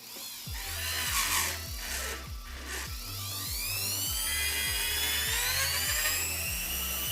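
An electric nail drill fitted with a medium bit whines steadily up close, its high motor pitch climbing as it speeds up, with a faint pulsing rattle underneath and no voices.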